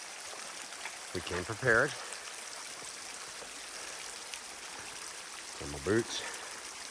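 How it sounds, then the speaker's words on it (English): A wilderness river flows steadily, its water rushing and trickling as a constant wash beneath two short bursts of talk and a few near splashes. "We have to cross this river."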